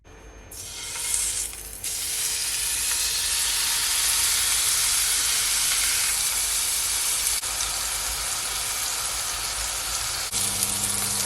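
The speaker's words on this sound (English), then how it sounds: "I'm gonna allow my steak to fry for at least 4 minutes on each side" A steak is laid into a hot pan and fries with a loud, steady, close sizzle and hiss that holds for several seconds, with a faint clink near the end.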